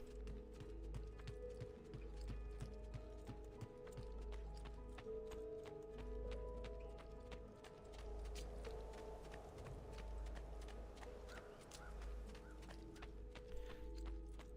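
A horse in the video game Assassin's Creed 2 walks with steady, soft clip-clop hoofbeats, faint beneath a constant low game music bed.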